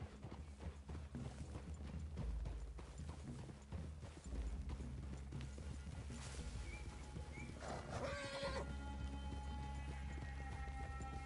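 Horse hooves clip-clop steadily under a sweeping soundtrack in Red Dead Redemption II, with a snort or whinny partway through.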